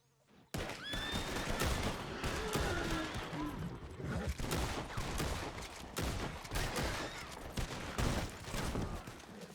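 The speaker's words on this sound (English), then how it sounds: "Boys, open fire." A volley of gunfire erupts in a Western standoff as several guns fire at once. The shots come as a loud, ragged fusillade of cracks over several seconds, with a horse whinnying amid the shooting.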